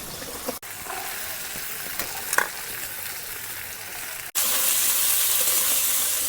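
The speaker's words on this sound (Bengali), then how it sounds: "হালকাভাবে ভেজে নেব" Cauliflower, carrot and beans frying lightly in oil in a pan give a steady, loud sizzle with faint stirring scrapes. The hiss briefly cuts out twice and then returns stronger and brighter.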